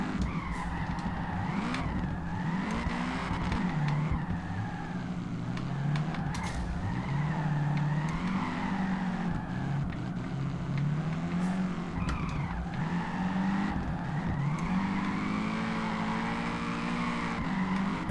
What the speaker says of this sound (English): It just feels like I can save my drift a little bit there.